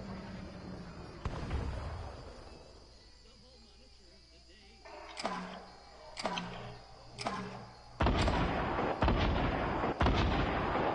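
Repeated gunshots and heavy booming blasts in a PS4 shooter game, a cluster of sharp reports followed by a dense, louder volley near the end, over game ambience with a voice talking at times.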